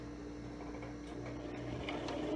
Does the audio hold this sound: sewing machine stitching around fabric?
yes